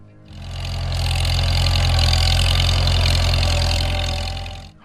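An International Harvester Farmall H tractor engine runs steadily close by, a loud, low, continuous rumble that fades in and out over a few seconds.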